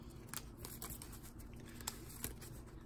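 A deck of Six Samurai trading cards is shuffled by hand, giving faint, close, dry riffling and crisp snapping clicks in a quiet room.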